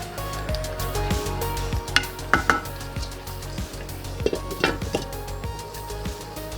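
Pepper steak cooking in a pan, a low bubbling sizzle under repeated knocks and scrapes of a utensil against the pan, with a few louder clanks.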